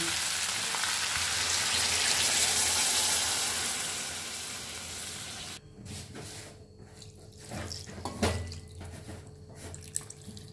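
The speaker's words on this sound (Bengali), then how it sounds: "এখানে আমার অর্ধেক দুধ আর অর্ধেক জল মেশানো আছে, আমি এটাকে দিয়ে দিচ্ছি" A half-milk, half-water mixture pours into sizzling vegetables for Bengali shukto, a loud hissing rush that fades after a few seconds into softer bubbling with scattered clinks and drips nearby.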